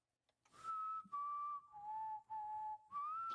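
A clear, close human whistle holding a slow, wavering tune in several sustained notes with short breaks between them.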